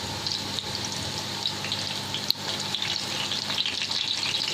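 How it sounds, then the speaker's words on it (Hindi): Bread kababs frying in a pan of hot oil give off a steady, moderately loud sizzle with soft crackling, continuous throughout without any talking. "इस तरह से हमने सारे फ्राई कर लेने हैं।"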